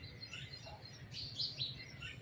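Birds chirp outdoors at about seven in the morning under a cloudy sky, a brief run of faint, high tweets over a steady soft background hiss.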